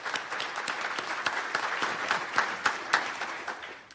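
An audience at an alumni awards dinner claps for the honorees, a moderately distant, steady round of applause with a few sharper claps standing out before it tapers off.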